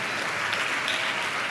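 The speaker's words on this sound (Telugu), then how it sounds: "అందరం చప్పట్లు కొడితే యేసయ్యకు స్తోత్రాలు చెప్దాం." A church congregation claps loudly and evenly in praise during a Telugu sermon, a dense, sustained wash of applause with no voices over it.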